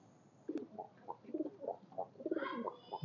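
A pair of pigeons coo in a steady series of soft, low, throaty calls, close by, with a brief higher chirp near the end.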